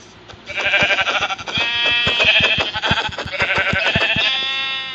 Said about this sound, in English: Now to find some sheep.